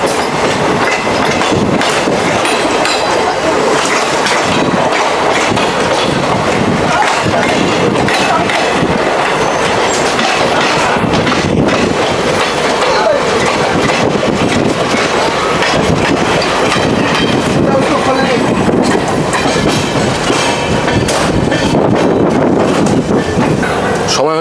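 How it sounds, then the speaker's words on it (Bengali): A passenger train on the Howrah to Bolpur line runs on its rails with a loud, continuous rumble and clatter that holds steady for the whole stretch, close and enveloping, with no clear voices. "আমাদের ট্রেন কিন্তু এসে পৌঁছালো ঘুষখুড়া জংশন প্রায় 10 মিনিট লেটে"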